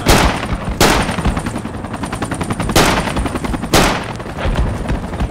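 Rapid bursts of automatic rifle fire in a Project Reality infantry battle, with three sharp loud volleys and steady rattling shots between them, close and dominant with no talk.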